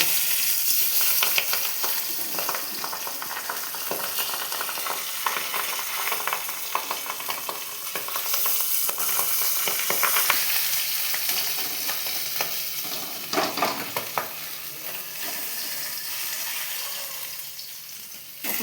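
Pressure-cooked mutton fries in a pan with a steady, close sizzle and crackle that runs throughout, broken by occasional scraping stirs, with no voices.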